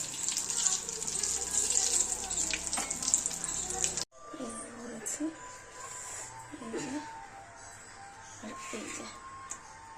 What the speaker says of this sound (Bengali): ডিমের চপ আর আলুর চপ ভাজা চলছে